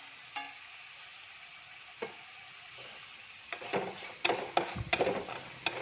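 Ginger, garlic and shallots fry in a pan for a Kerala-style king fish curry, a low steady sizzle broken by occasional utensil knocks, then livelier scraping and stirring bursts near the end.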